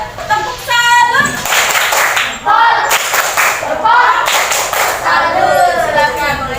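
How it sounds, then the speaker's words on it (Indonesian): In a classroom, a group of students claps a rhythmic salute pattern while chanting along, their voices mixed loudly with the claps. "Tepuk salut."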